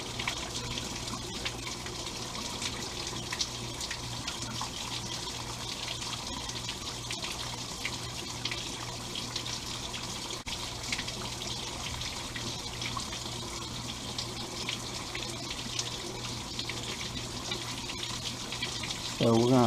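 Water gushes and splashes continuously from a hose flushing oil sludge out of a Willys L134 Jeep engine radiator, a loud steady rushing with a low hum underneath throughout.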